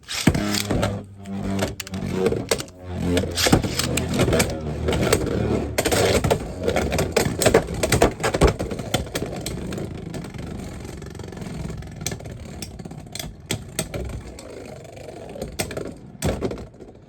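A Beyblade X Driger S top is launched into a plastic stadium and battles, giving a loud whirring, scraping spin with sharp repeated clacks of collisions that fade as the spin winds down.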